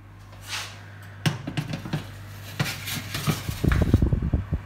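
Salmon mille-feuilles set onto a metal baking tray and slid into the oven, with clattering clinks, scrapes and knocks of metal against metal, close and moderately loud, growing busier toward the end.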